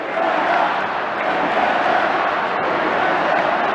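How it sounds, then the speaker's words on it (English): A packed stadium crowd at a 2022 State of Origin rugby league match between Queensland and New South Wales roars in a continuous loud, dense wall of noise with no break. "Just have a listen to this crowd for a sec."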